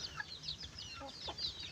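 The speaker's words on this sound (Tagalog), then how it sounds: "Ito yung mga ibang inahin na mga native chicken" Native chickens (laying hens) cluck softly in a quick scattered series of short calls, fairly close, with faint background noise and no talking.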